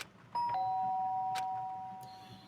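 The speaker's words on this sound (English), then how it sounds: "The sharp sound of the doorbell pierced my sleepy haze and pulled me back to the real world." A doorbell rings in the Danganronpa: Trigger Happy Havoc video game, with two bright chime tones that sustain and slowly fade, clear and alone with no talking.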